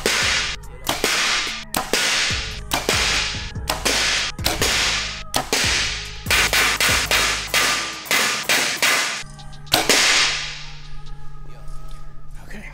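Arrows tipped with Tuffhead broadheads striking a steel plate, a rapid series of sharp, loud metallic cracks and thwacks, more than a dozen impacts in irregular succession, close up and ringing briefly after each hit.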